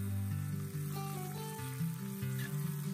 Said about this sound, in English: temper it with some mustard seeds splattered in 2 tablespoons of ghee, then 1 teaspoon cumin seeds and some dried red chilies